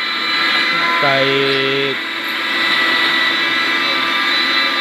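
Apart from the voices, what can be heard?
CNC machine cutting speaker holes in a planar speaker box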